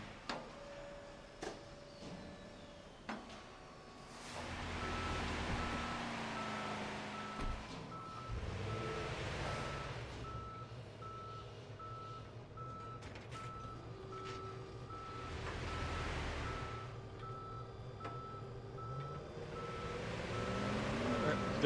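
Reversing beeps from a tow truck backing up in Police Simulator: Patrol Officers, repeating steadily over engine rumble and other truck noise, with some talk now and then.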